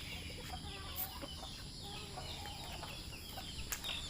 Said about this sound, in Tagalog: Ito yung aking eksperimentong alaga. Chinese chicken.